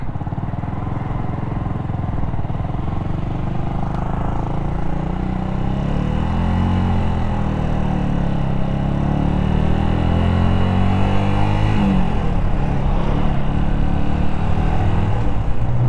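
A Yamaha YZF R125 motorcycle's 125cc engine runs steadily and close by, a loud, continuous mid-range drone that builds slightly in intensity partway through, with no talking.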